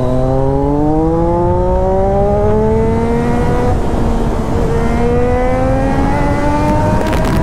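Several motorcycles idle and rev together at close range, engines running steadily with rising and falling pitch for the whole stretch, a Mercedes car stopped right beside them.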